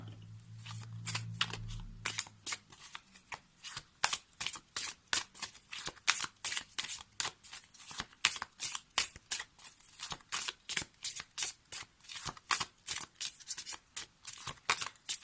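A deck of tarot cards is shuffled for a daily card reading, giving a rapid, continuous run of riffling flicks and slaps that carries on steadily for the whole stretch, close and fairly soft, with a low hum at the start.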